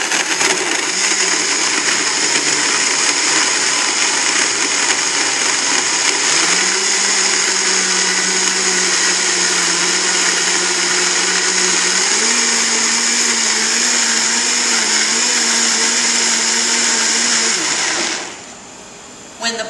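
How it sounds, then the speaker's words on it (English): A smoothie blender whirs loudly and continuously, its pitch stepping up in stages as the motor speeds through its programmed cycle, then it shuts off abruptly. "So these blenders run a program for us."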